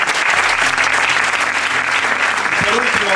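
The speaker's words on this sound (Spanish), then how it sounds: "Dale un aplauso fuerte." Church congregation applauding loudly during a sermon, dense steady clapping with a low sustained tone, likely music, underneath and a voice breaking in near the end.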